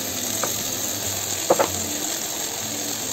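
Green beans tipped into a hot frying pan of vegetables for Cameroonian poulet DG, giving a steady hiss of frying with a brief burst of sharper sizzle and clatter midway.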